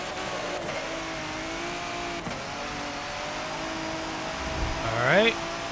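A racing truck's engine in Forza Motorsport 7, droning steadily on a rainy track, then briefly surging louder as it revs near the end.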